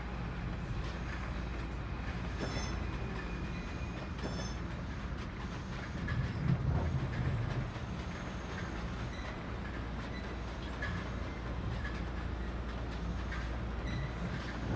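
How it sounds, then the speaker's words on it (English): A Metro North M7 commuter train passes with a continuous rumbling roar and rhythmic rail clatter, swelling briefly midway, heard steadily throughout. "Got a Metro North M7 over here."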